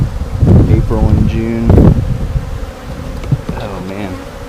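A captured honeybee swarm from a pine tree, with bees buzzing close and loud throughout the clip as people talk over it.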